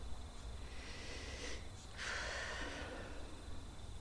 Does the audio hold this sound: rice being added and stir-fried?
no